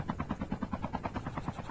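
A helicopter in the mobile shooter game Call of Duty Mobile thuds along in a fast, even rotor beat, close and moderately loud, with no talk over it.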